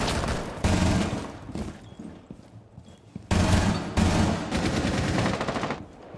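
Rapid bursts of automatic gunfire from the video game Chalet, loud and close, coming in two dense volleys with a quieter stretch of scattered shots between them.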